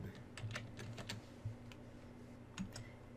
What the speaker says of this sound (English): as a tag, I'm going to type Tinkercad.